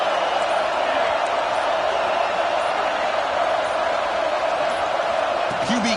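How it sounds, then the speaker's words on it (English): A stadium crowd at a college football game roars steadily as the defense holds in the red zone, a dense sustained cheer with a commentator talking over it. "the crowd coming to life here, trying to help this defense down in the red zone"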